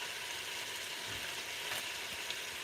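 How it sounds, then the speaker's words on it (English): Food sizzles and crackles quietly in a pan, a soft steady hiss with occasional faint pops. "I'll record some sizzle"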